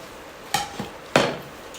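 Two sharp scraping clanks of a spoon stirring leftover torn roti pieces into a spiced tempering in a pan, separated by a softer knock, close and fairly loud with no talking.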